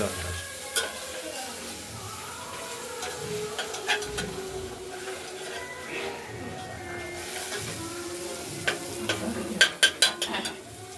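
Moong dal frying lightly in a little oil inside a pressure cooker, with cumin, chilli and bay leaf, gives a steady soft sizzle with occasional stirring scrapes, and sharper clicks near the end.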